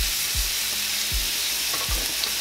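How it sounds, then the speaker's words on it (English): Pork ribs searing in a pan of olive oil and vegetable oil for country-style BBQ ribs, a loud continuous sizzle up close with low thumps every few tenths of a second, no talking. "We're gonna take our ribs, and we wanna pan sear these"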